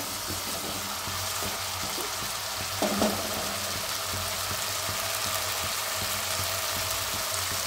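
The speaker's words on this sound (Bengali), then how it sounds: "এবার তেল ছাড়তে শুরু করে দিয়েছে আদাটা।" Ginger and spices frying in oil in a pan for a traditional Bengali banana-flower dish, a steady close hiss and sizzle throughout with a brief clatter of stirring near the middle, no voices.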